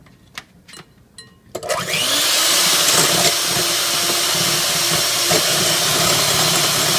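Electric mixer beating egg whites for a pumpkin pie, starting after a few faint knocks and then running as a loud, steady whirring drone with no talk.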